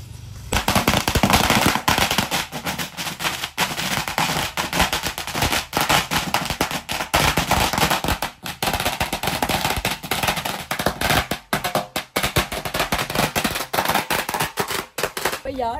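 A long string of traditional firecrackers bursts at a festive gathering in Vietnam, a dense, loud, continuous crackle of rapid pops that runs nearly unbroken throughout.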